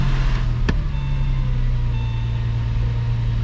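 A Porsche 996 with a weak, hesitant start: the engine catches on a brief crank-like burst, then settles into a steady, close, loud low idle hum with no talk.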